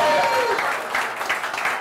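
Comedy club audience clapping and cheering, a dense steady wash of applause close by, with a voice mixed in underneath.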